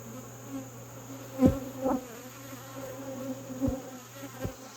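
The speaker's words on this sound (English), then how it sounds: "You hear how loud they got with that." A steady, loud droning buzz of many honeybees at an opened hive, with a few sharper bursts of activity rising above the constant hum.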